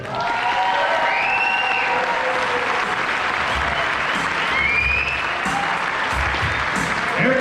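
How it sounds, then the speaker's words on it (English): Dense, sustained applause and some cheering from a live comedy show audience welcome a performer to the stage, filling the whole stretch at an even, loud level. "Give a big welcome, round of applause for Baurice Nelson."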